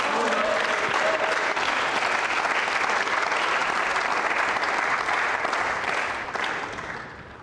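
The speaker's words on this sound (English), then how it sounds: "Round of applause. applause from the crowd." A pool crowd at a World Cup of Pool quarter-final bursts into loud, dense applause after a difficult shot, sustained at full strength before fading toward the end.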